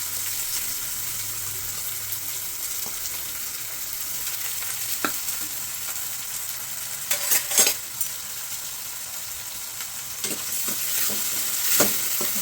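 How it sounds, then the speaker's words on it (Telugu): Bitter gourd peel and onions frying in hot oil while being stirred, a steady soft sizzle broken by a few scraping stir strokes, heard close with no talking. "దాని తర్వాత కాకరకాయ మీద తీసిన పొట్టు ప్లస్ ఉల్లిపాయలు ఆయిల్లో వేసుకున్నారండి"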